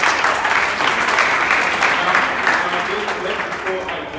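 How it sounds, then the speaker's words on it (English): Applause from a student crowd at a university talk, dense steady clapping filling the whole stretch at moderate loudness, with faint voices mixed in underneath. "Give yourselves a round of applause."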